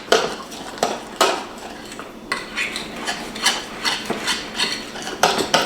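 A spoon stirs baking powder into thick almond flour brownie batter in a bowl, making repeated close scraping and clinking strokes in an uneven rhythm.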